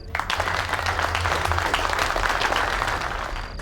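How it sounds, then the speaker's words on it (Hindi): Applause from an audience at a family gathering welcoming a son-in-law, dense continuous clapping that stays steady and loud throughout, with no voices over it. "हमारे खानदान के चिराग और दामाद मिस्टर आहान से एक बार तालियां हो जाए भाई"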